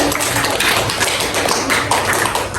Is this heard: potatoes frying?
no